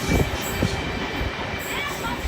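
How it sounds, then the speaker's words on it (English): A limestone freight train rumbles past at close range in Menangle, a continuous loud roar of wagons with rhythmic wheel clatter and faint squeal, and someone talks over it. "It is a limestone train."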